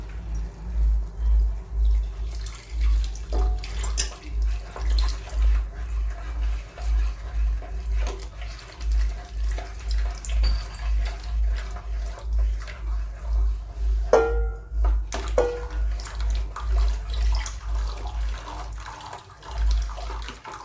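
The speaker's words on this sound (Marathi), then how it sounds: "जे दूध घेतलेलं आहे ना हे दूध घालत आहोत" Milk poured gradually into a pan for basundi, a continuous close liquid stream that swells and pulses in uneven waves, with a few faint clinks partway through and no talk.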